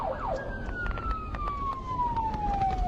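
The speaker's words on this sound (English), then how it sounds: "With red lights and siren blaring, Murphy prods his patrol vehicle towards the" A sheriff's patrol car siren wails on a call, a continuous rising and falling electronic tone with a long downward sweep, heard over low road rumble with no one speaking.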